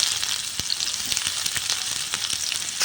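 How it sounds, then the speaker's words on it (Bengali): Chopped onion frying in hot oil, a continuous bright sizzle with a few sharp crackles and pops, close and alone without talk. "ছোট ছোট করে কেটে রাখা একটু পেঁয়াজ দিয়ে দেব"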